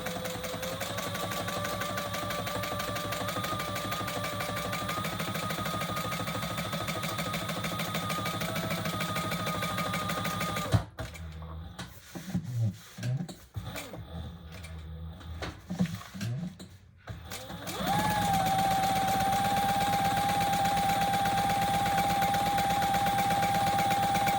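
A sewing machine top stitches down each side of a tote bag seam, a steady close motor hum that breaks off for a stretch of handling noises before resuming.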